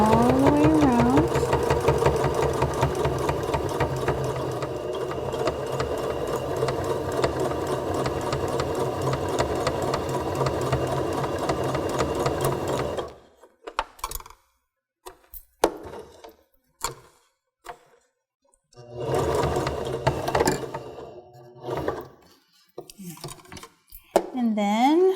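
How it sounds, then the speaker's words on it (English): A sewing machine stitches fabric for a sleep mask, a steady close mechanical whir for about half the time, then stops and restarts in shorter runs with clicks and pauses, and a voice speaks briefly between runs. "I'm gonna back stitch a little. And continue all the way around."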